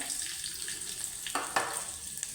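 Garlic, mustard seeds and curry leaves sizzling in hot oil for a tomato saar, a soft continuous fry with a couple of sharper crackling bursts near the middle, close and alone.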